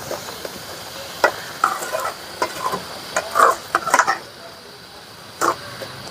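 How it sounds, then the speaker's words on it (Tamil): A spoon stirs gravy in a cooking pan with a soft sizzle underneath, making irregular clinks and scrapes in short bursts, close up and moderately loud. "கிண்டிக்கிட்டு இருக்காங்க."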